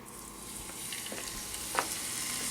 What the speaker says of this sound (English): that sear sound that you hear is exactly what you want